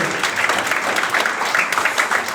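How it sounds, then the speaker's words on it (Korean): An audience gives steady, dense applause indoors at a youth history research competition in South Jeolla. The clapping is loud and continuous throughout, with no pauses. "자, 큰 박수 보내드리겠습니다"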